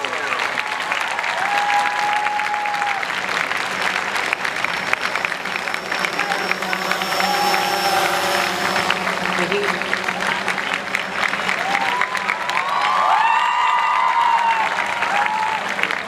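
An audience at a conference and prize distribution ceremony gives a teacher a long, loud round of applause, steady dense clapping with voices and faint tonal sounds mixed in.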